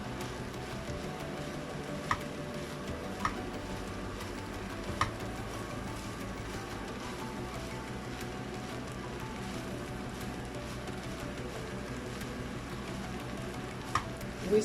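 Eggs fry with leftover rice in a pan, a steady soft sizzle running throughout with a few faint clicks of stirring, close by and with no talking.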